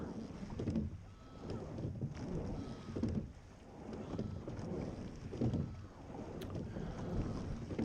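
A rowing boat during a race at about 24 strokes per minute, with rhythmic oar strokes recurring roughly once per second as low whooshing surges over wind noise.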